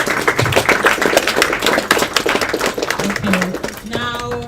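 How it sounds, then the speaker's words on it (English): An audience at a creative film event claps loudly and continuously, a dense patter of applause close by that fades toward the end as a voice begins to speak. "can we get a round of applause for Toby"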